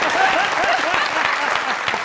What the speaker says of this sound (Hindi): तालियां भाई के लिए।